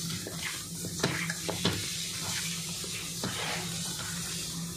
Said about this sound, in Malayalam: എല്ലാം കൂടി ഇതുപോലെ കൈവച്ച് നല്ലപോലെ മിക്സ് ചെയ്ത് കൊടുക്കാം